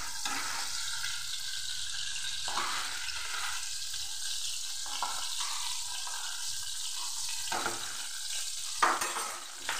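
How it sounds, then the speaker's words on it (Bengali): Tangra fish fry in hot oil in a pan while being turned, a continuous close crackling sizzle with brief stirring and shifting sounds and no talk. "খুব বেশি ভাজবো না, জাস্ট একটু সামান্য উল্টে নিচ্ছি।"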